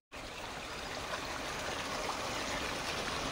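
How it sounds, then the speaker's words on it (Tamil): Steady rushing water from a seasonal waterfall stream beside a forest hiking trail, a constant broad wash that starts abruptly and holds close and full throughout, with no voices. "நம்ம போகிற வழியிலேயே ஒரு காற்றாற்று அருவி வந்துட்டு போயிட்டு இருக்குதுங்க."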